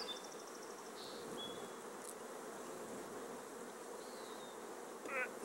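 A honeybee colony hums steadily inside a hive box, a dense, soft, continuous buzz with a few individual bees zipping past close by.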